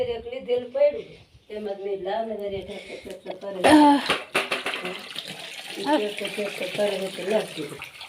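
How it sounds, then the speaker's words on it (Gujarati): Tap water runs with a steady broadband hiss in a Gujarati village home, partly masked by conversation, with a sharp clatter midway before the flow continues under the voices. "આવે જ છે પાણી"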